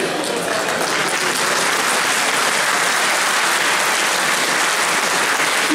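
A convention audience at a gaming conference claps steadily, dense and even applause sustained throughout without pause, filling the room with no voice clearly on top.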